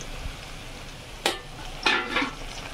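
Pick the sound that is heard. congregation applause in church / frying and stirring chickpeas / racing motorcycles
frying and stirring chickpeas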